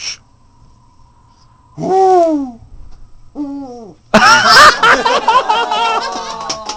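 A live owl in a studio gives drawn-out hoots, first one longer call and then a shorter one, followed by a louder burst of rapid, laugh-like hooting calls, close and clear with no talking.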